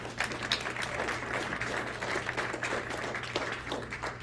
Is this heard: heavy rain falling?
no